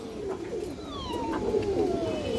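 An Indian High Flyer Kaldam female pigeon coos softly nearby in low, murmuring calls, with a thin, sliding tone passing over a steady background.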